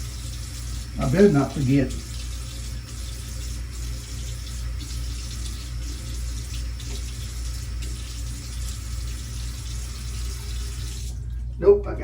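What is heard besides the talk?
water running from tap to wet face before shaving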